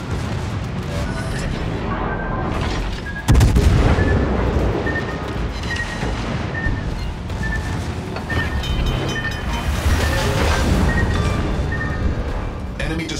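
Heavy warship artillery in the naval battle game World of Warships, a Petropavlovsk cruiser firing booming salvos over constant loud battle noise, with one especially hard blast partway through and a radio-style voice calling out orders.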